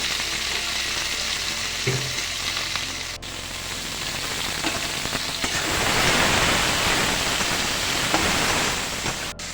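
Ridge gourd pieces fry steadily in a pan after turmeric and salt go in, a continuous loud sizzle with occasional stirring scrapes, no voices.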